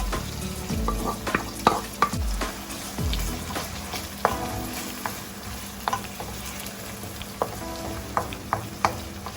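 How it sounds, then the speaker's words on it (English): Saltfish frying in hot oil for Jamaican ackee and saltfish, a steady close sizzle broken by sharp clinks and scrapes of a utensil stirring in the pan, with no talking. "I'm going to add the saltfish inside now"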